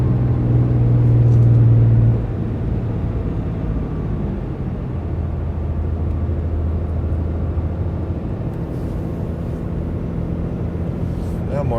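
A car driving along the road, a steady low engine and tire rumble from inside the cabin, continuous and even, with someone talking over it.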